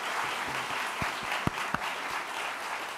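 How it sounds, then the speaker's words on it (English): An audience applauds at the 2018 National Geographic Bee final competition: dense, steady clapping from a crowd, with a few sharper individual claps standing out. "That deserves a round of applause."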